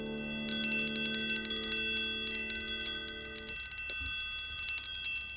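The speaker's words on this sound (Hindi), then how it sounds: "ये विंड चाइम्स है बड़ी दादी" Metal wind chimes in a hotel room tinkle in scattered bright strikes over a low steady hum, continuing softly alone with no talk.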